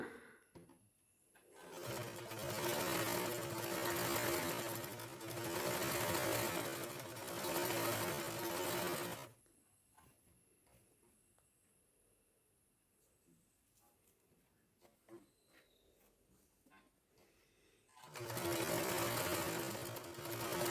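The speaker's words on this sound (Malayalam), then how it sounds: "ജോയിൻ ചെയ്തതിന് ശേഷം ഇതിൻ്റെ മുകളിലൂടെ ഒന്ന് പതിച്ച് അടിച്ചു കൊടുക്കുക." A sewing machine runs in two long bursts of stitching across the joined seam of a full-flare umbrella skirt. The motor hums loudly and evenly, with a quiet pause between the bursts.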